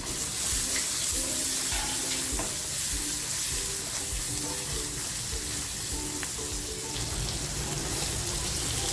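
Half a chopped spring onion sizzles and crackles steadily in well-heated oil, a loud continuous frying hiss with occasional stirring scrapes and clinks throughout, no talking.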